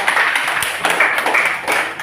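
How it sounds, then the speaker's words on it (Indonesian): A short burst of brisk clapping from a class of students in a classroom, close and fairly loud, rising and falling over a couple of seconds. "Tepuk tangan semuanya."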